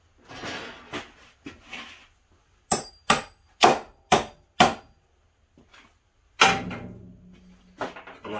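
Sharp hammer blows driving a nail, several scattered knocks then a quick run of five evenly spaced strikes and a few more, close and clear with quiet pauses between.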